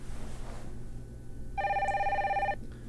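A telephone rings once in a steady electronic trill for about a second, loud and close, over a low background hum.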